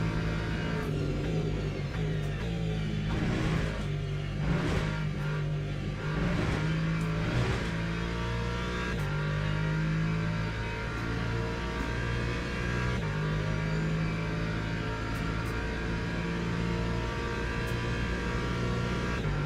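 Race car engines in a racing video game at Daytona or Laguna, with a Corvette and a Lamborghini running: a steady, loud engine drone with rising and falling revs and gear changes, continuous throughout with no talking.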